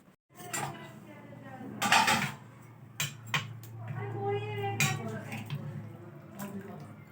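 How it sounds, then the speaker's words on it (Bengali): Katla fish curry being ladled from one pot into another serving pot, with clinks of a metal spoon and utensils against the vessels and a liquid pour, close and moderately loud over a low steady hum, with some speech. "ঝোল এবার আমি সার্ভ করে দেবো অন্য পাত্রে"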